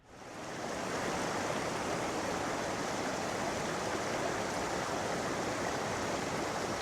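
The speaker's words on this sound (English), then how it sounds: "Here is the water that is coming down from the waterfalls here in Kings Canyon" Steady, full roar of water pouring down from waterfalls in Kings Canyon near Carson City into a channel, a constant broadband rush with no pauses or voices.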